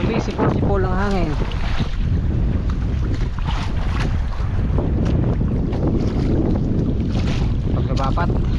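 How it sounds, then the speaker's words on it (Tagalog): Wind whistles and roars steadily across open sea around a fishing boat, with constant loud buffeting on the microphone and brief tonal squeals rising over the noise. "Sumisipol ang hangin."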